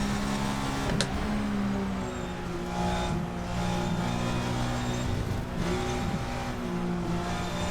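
A race car engine in the Assetto Corsa racing game, running the VRC Pageau mod car: a loud, continuous engine drone that rises and falls with revs, with brief shifts and a sharp transient near the start, and no talking.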